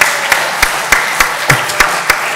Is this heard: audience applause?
yes